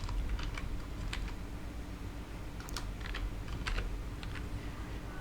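Computer keyboard typing in short irregular bursts of clicking keys, close and clear over a low steady background hum, with no talking.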